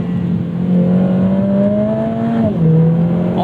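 Lotus Emira sports car with an open differential, its engine droning steadily at high revs when a downshift on track is rejected, the pitch holding and then dipping slightly near the end.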